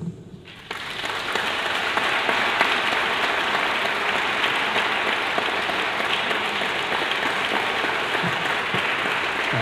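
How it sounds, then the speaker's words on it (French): After a brief quiet moment, sustained applause from a sizable audience after a lecture rises and continues evenly, a dense wash of clapping that holds to the end. "Applaudis, hein?"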